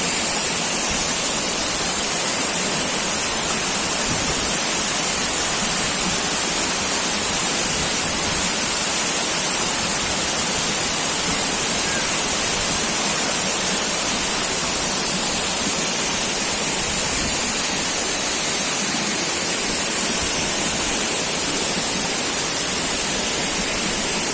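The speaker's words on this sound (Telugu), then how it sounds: "ఈ వాటర్ ఫాల్ అయితే రెండు దారులు అలాగే మూడు దారాలు పడుతుందండి" A steady, dense roar of falling water from the Donugumula waterfall, which drops in two or three streams, loud and continuous throughout with no voices, like standing close by.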